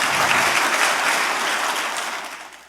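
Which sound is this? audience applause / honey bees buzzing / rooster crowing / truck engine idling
audience applause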